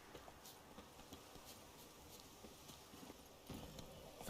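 Faint, rapid hoofbeats of a galloping horse in The Witcher 3: Wild Hunt, a steady drumming rhythm that grows slightly louder at the end.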